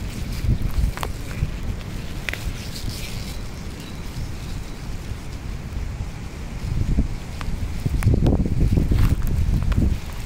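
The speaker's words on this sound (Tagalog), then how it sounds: "Lakas ng hangin." Strong wind buffets the microphone in gusty rumbles, rising louder toward the end, with a few faint clicks and rustles, outdoors where wild garlic grows.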